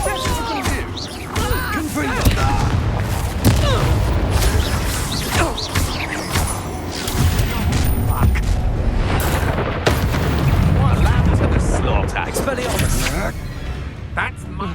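A Confringo fire spell blast in the game Hogwarts Legacy, a loud booming burst amid dense, continuous combat noise of crashes and thuds, with a voice shouting spell names over the din.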